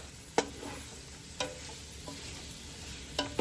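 Chopped onion cooks in a pot for a beef and shrimp gumbo, giving a steady soft sizzle with a few sharp clinks of a spoon stirring against the pot, close and continuous without speech.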